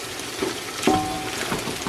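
Onions fry in a pan with cloves and bay leaves while browning for chicken biryani, a soft continuous crackling sizzle with a couple of louder pops and spatters, close and without talk.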